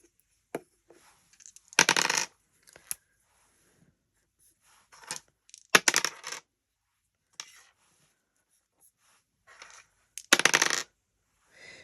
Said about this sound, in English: You're going to flip the timer over, roll 2 dice